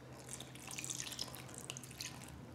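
A little water trickles into naan dough with salt and yeast, a faint, quiet splash and a few scattered drips heard close and alone.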